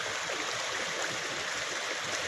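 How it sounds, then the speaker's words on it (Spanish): A river crossed on the way to a rural farmhouse flows steadily, with broadband rushing and gurgling water that stays constant and fairly close throughout, no voices. "este es el río que atravesamos para llegar a la casa"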